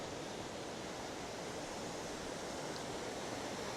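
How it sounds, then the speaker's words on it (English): Broad, steady rush of river water pouring over a weir, continuous and fairly close, with no break or voices over it. "The weir that's here will come up on the map. And this is where the main river trundles down."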